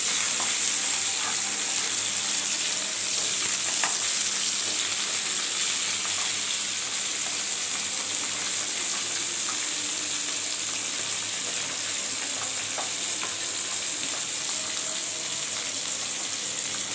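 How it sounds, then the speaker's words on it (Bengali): Pabda fish fry in oil in a pan with a loud, continuous sizzle and occasional crackling spits that hold steady for the whole stretch. No voices are heard. "একে একে করে দিয়ে দেব প্যানের ভিতরে মাছগুলো ভাজার জন্য।"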